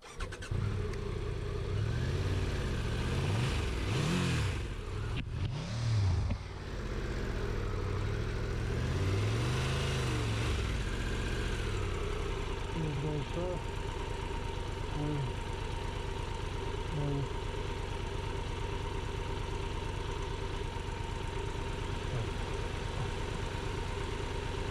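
Triumph 1200 Rally Pro adventure motorcycle labouring off-road, the engine revving and sagging in uneven surges early on before settling into a steadier, strained drone, close and continuous.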